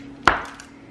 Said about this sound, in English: cut it with this gigantic knife.